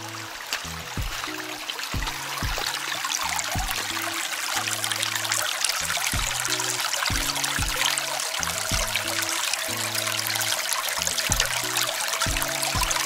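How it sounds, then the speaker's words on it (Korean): Steady rush of trickling water from a small countryside stream beside a house in Yangpyeong, Gyeonggi-do, South Korea, continuous and close, with a faint repeating low tone underneath. "실개천 흘러가네요."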